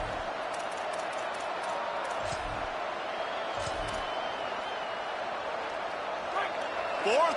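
Steady roar of a stadium crowd in an NCAA college football video game against Georgia, a dense continuous wash filling the whole stretch, swelling slightly at the end on a fourth-down play.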